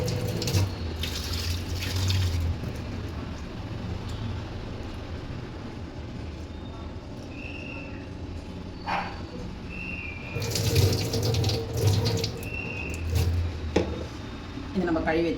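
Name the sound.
rinsing broken rice under running tap water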